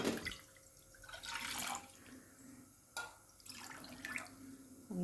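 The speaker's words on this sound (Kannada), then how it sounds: "ಒಂದೂವರೆ ಗ್ಲಾಸಷ್ಟು ನೀರನ್ನು ಹಾಕಿ" Water is poured into a kadai in a few short bursts, splashing and running, close and fairly clear, with quiet gaps between the pours.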